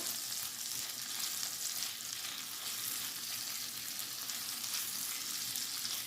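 Potatoes and carrots fry in butter and olive oil in a pan, giving a steady, even sizzle with a bright crackling hiss that carries on without a break and with no talking.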